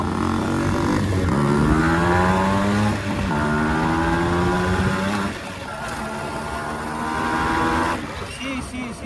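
An RX motorcycle engine revs up and down in repeated rising and falling sweeps, loud and close, with people talking over it.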